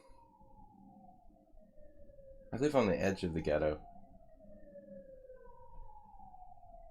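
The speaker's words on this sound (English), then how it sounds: "There's an ambulance." An ambulance siren passes outside, a steady falling wail that runs the length of the clip at moderate distance, briefly drowned out by someone talking in the middle.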